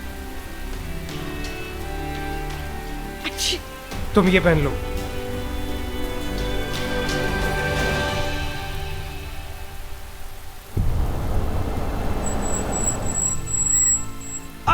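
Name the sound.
heavy rain falling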